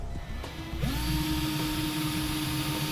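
A power drill bores pilot holes in a truck frame rail on a 2014 Ford F-250 during a Curt 5th wheel installation, spinning up after a brief click into a steady close whine that holds for about two seconds.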